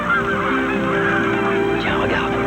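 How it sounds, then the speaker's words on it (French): A flock of wild geese honks continuously, many overlapping nasal calls forming a loud, dense chorus close by with no pause. "J'ai toujours rêvé de pouvoir approcher des oies sauvages."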